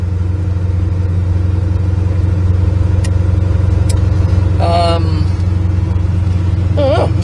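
A 1968 Chevrolet Corvette engine runs steadily throughout with a low, even rumble, close and continuous, while brief clicks and a short voice-like sound break in toward the end.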